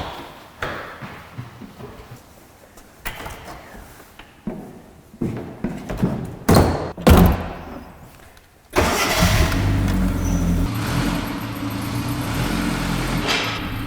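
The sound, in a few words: classic Mini campervan engine driving off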